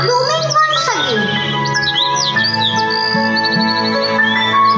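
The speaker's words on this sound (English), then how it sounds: "The birds are flying and singing with delight" Birds chirp and sing in a blooming spring garden, bright twittering calls scattered over dense music and voices in a staged English drama, the song partly buried under the louder score.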